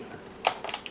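A single sharp mechanical click of a Polaroid Land camera shutter, then a few softer clicks and rattles close by in an otherwise quiet room.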